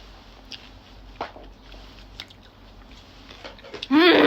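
Close, soft chewing of food with small wet bites and squishes, intermittent and quiet, before a voice starts speaking at the end.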